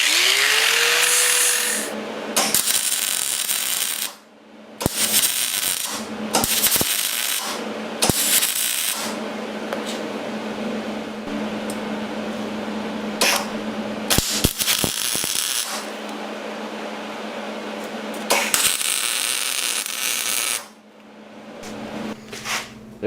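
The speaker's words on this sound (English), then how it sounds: "I need to grind some of the paint off here where the battery's going to go" A power grinder strips paint from the battery mount area of a Honda Sabre motorcycle, whining up in several loud bursts with brief pauses and spin-downs between passes, close by.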